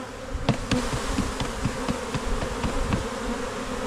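Honeybees from a nucleus colony hum in a dense, steady swarm as a frame is tapped to shake them off, with soft knocks under the loud close buzzing.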